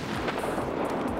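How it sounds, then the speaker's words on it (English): Grenade explosion in the shooter Escape From Tarkov, a short dense booming rumble heard up close. "Pretty sure I killed that one with a grenade."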